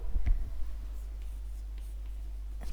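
Pen or pencil writing a short answer on paper in a maths lesson, a few brief scratchy strokes near the start, then quiet room tone with faint breathy sounds.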